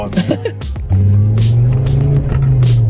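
A Mazda MPS with a high-mount turbo engine runs close by, a steady loud idle drone with a rise in revs near the start and faint voices underneath.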